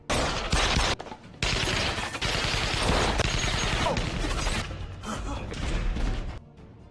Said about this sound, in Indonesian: semua anak buahnya, untuk menghabisi Ruslan sampai terjadilah baku tembak di antara mereka.